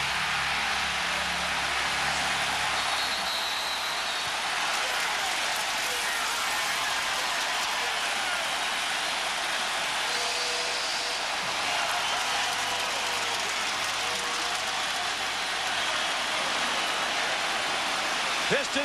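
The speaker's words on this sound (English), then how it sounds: "The crowd's too loud." Roaring basketball arena crowd at a 2004 Pistons–Pacers conference final game, a dense, continuous wash of loud cheering and noise with commentators talking underneath.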